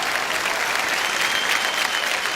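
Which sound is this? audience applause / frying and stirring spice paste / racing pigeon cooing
audience applause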